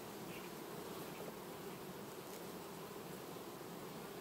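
Honeybees hum at the hive in August, a steady, even drone from many insects close by, with no voices.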